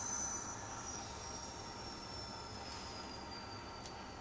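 An N scale ScaleTrains EMD GP30 model locomotive runs along track with a faint, steady mechanical whir and a thin high-pitched squeal from the wheels, quiet and continuous throughout.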